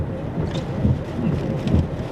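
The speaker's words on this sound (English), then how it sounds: "Yeah, it's slowing down. A little light rain now." Light rain falls during a strong tornado storm near LaCrosse, Kansas, as a steady patter masked by low wind buffeting on the microphone and a rumbling undertone, with no one speaking.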